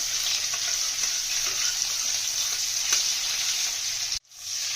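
Black cumin, cumin seeds, green chilies and onions fry in plenty of oil for a Bengali tel koi fish dish, a steady loud sizzle that drops out abruptly near the end, with no talking.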